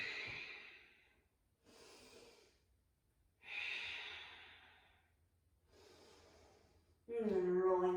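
Deep, slow Ujjayi breathing in a yoga flow, with several long drawn breaths spaced a couple of seconds apart, close and fairly quiet, followed by a louder, rougher exhale or snort at the end.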